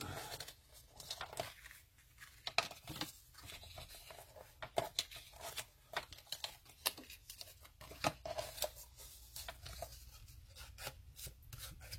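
Paper being creased into folds for a handmade flip-book: quiet, irregular rubbing and crinkling strokes with sharper pressing clicks, close up, in uneven bursts, no talking.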